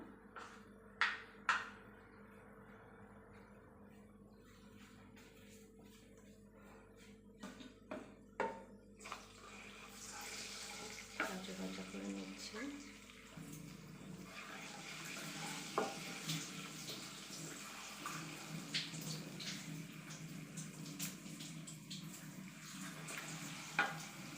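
Chilies and whole panch phoron sizzle in hot oil in a pan for garlic pickle, starting quiet with a few sharp clinks and scrapes, then a steadier crackling fry under occasional stirring knocks.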